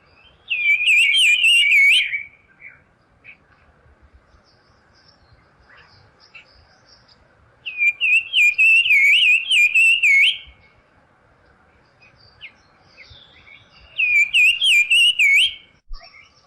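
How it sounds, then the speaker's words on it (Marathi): Quaker babbler in forest giving bright, warbling whistled phrases, three separate bursts about two to three seconds each with quiet gaps between, clear and fairly close with no talk. "जंगलात ऐकू येणाऱ्या या शिट्या आहेत शिटीमार सातभाईच्या."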